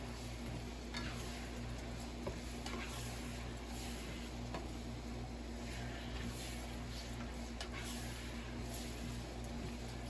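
Curry beef for a keto carnivore dish cooking in a pan with onions, a steady soft sizzle and faint stirring that runs on without a break.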